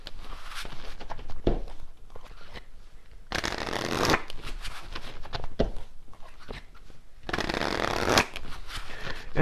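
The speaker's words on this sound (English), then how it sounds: "when I'm shuffling here" Tarot cards being shuffled in repeated bursts of riffling and sliding, with two long, loud shuffles separated by softer handling and tapping of the deck, close up and with no speech.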